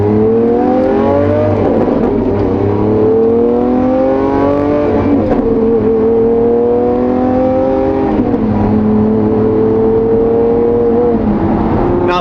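Lamborghini Aventador supercar with a single-clutch gearbox driving and revving loudly, its engine note climbing steadily then dropping abruptly at gear shifts around two, five, eight and eleven seconds, heard close from inside with no talk.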